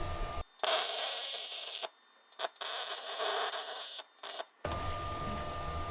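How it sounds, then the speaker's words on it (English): Plug welds are laid on the misaligned pedals of a 1938 International pickup, three loud bursts of harsh, steady welding crackle separated by short silent gaps. "we'll do these two little plug welds"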